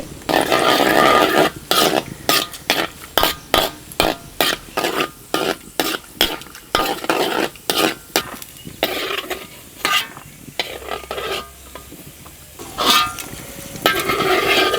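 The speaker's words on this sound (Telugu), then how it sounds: "ఇప్పుడు జీడిపప్పు వేయించుకుని పక్కన పెట్టుకుందామండి" Cashew nuts frying in ghee in a pan, a steady close sizzle broken by regular rhythmic scraping and stirring strokes of a spoon throughout.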